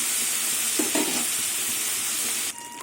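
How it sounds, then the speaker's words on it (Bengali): Dried Bombay duck fish sizzles and hisses steadily in hot oil, with a brief stirring scrape partway through, then the frying noise drops quieter near the end. "শুটকি মাছগুলো একটু লাল লাল করে ভেজে নেব"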